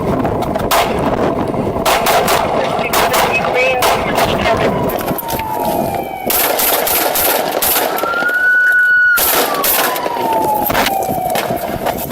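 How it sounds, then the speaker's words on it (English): Gunfire from a shooter at a Walmart in Minnesota: loud, close bursts of shots over chaotic shouting, with a siren wailing through the scene. "He's shooting!"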